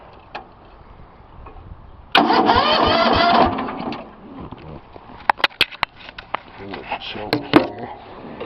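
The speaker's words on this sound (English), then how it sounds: "you can see this is a cold start. It runs really good, doesn't smoke, rattle, or anything" A Bolens 1257 garden tractor engine is started from cold, a burst of cranking and engine noise lasting about a second and a half, followed by scattered clicks and knocks nearby.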